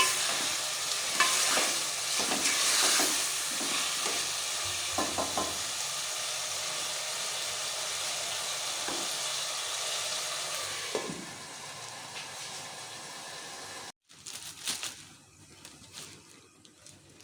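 Potato curry frying and being stirred in a pan, a loud continuous sizzle with repeated scraping strokes of a wooden spatula, easing off toward the end with a few louder knocks as the pan settles.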